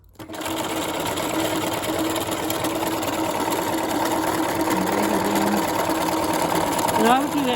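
A domestic sewing machine zigzag-stitches over drawn lines on a fabric Valentine heart. It whirs steadily and closely throughout, with a brief shift in pitch near the end.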